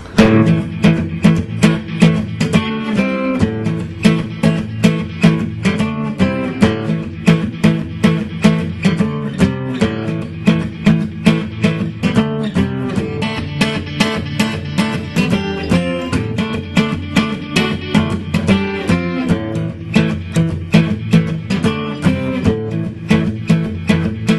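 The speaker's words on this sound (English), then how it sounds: "we're actually going to do kind of a rock and blues progression on the acoustic guitar" Acoustic guitar strums a driving rock-blues progression in a steady, loud rhythm with regular accented strokes, played alone with no voices.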